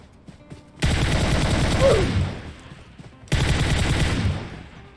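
Gunfire in PUBG Mobile during a solo-versus-squad match at a military base, two dense bursts of rapid automatic shots, loud and close, with a short lull between them and no talking.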